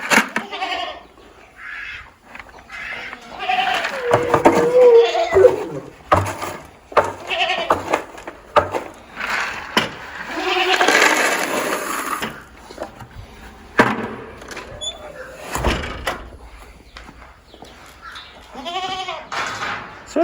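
Goats bleat repeatedly and loudly at a farm on processing day, several animals calling near and far amid pen clatter and movement, with occasional voices in the background.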